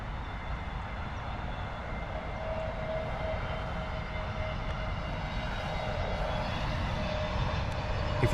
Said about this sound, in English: A320neo coming in from Glasgow